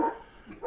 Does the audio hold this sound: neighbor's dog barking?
yes